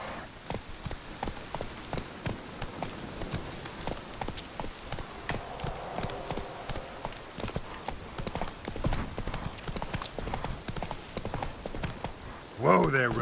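Roach, the horse in The Witcher 3: Wild Hunt, gallops with rapid, steady hoofbeats throughout. The drumming stays continuous and fairly close, and a brief louder burst comes near the end.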